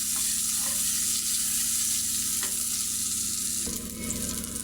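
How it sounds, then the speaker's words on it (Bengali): Chopped onion fries in hot oil with bay leaf, cloves and cardamom for a chicken and potato curry, a loud continuous sizzle with occasional stirring scrapes, close and without speech. "এ পর্যায়ে দিয়ে দিব পেঁয়াজ কুচি এবং তেজপাতা, লং, এলাচ দিয়ে নেড়ে চেড়ে নিব"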